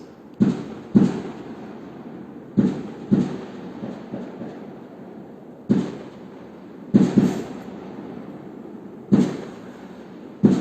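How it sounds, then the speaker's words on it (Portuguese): Fireworks going off at a town celebration, a string of muffled booms and cracks spaced a second or two apart, some in quick pairs, heard at a distance over a quiet background. "Vocês estão ouvindo? Fogos? Conseguem ouvir? Tem festa na cidade."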